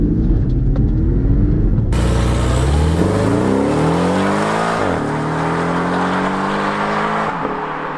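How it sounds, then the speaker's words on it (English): A turbocharged Porsche 718 accelerates hard on a narrow single-track road, the engine suddenly booming up through rising revs, a quick shift, then climbing again loud and close. "So does the new 718 turbocharged car sound good?"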